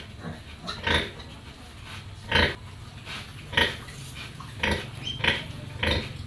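A sow nursing her piglets on a farm gives short grunts and snorts at irregular intervals over a steady low hum, with faint clinks and rustles around them.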